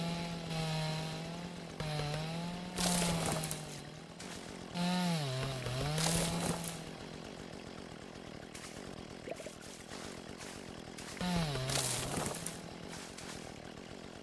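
A chainsaw in the video game Dinkum whines continuously for around fourteen seconds, its engine pitch swelling and dipping in repeated revving bursts, loud and close with no talking.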